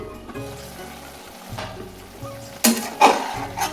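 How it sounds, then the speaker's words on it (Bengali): Sliced flat beans and potatoes frying in oil in a pan at home, a low steady sizzle with a couple of louder bursts of clatter and hiss toward the end. "আমি কিন্তু সিম আর আলু ভাজা করছি।"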